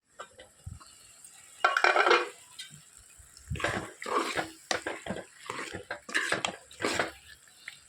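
Water is added to a pot of drumstick and tomato curry, followed by clinking stirring and scraping of a utensil against the pot in short uneven bursts, close and moderately loud.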